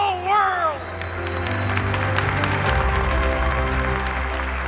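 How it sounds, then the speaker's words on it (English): A huge assembly of about 6,500 Chabad rabbis, standing at their annual gathering, breaks into a round of applause. The clapping swells into a sustained, dense roar under a voice and music at the start. "A round of applause for the whole world."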